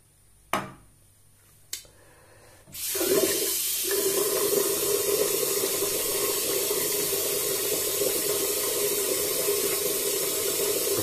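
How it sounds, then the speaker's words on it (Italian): Hot water runs steadily from a sink tap at a wet-shaving basin, starting abruptly after a couple of sharp knocks and continuing as an even, close hiss and splash with no talking. "Mettiamo un po' d'acqua."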